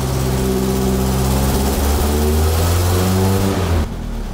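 A 1973 Triumph Spitfire engine, running a little rich, idles loud and close with a steady low rumble and slight unevenness before cutting off sharply near the end; no talk.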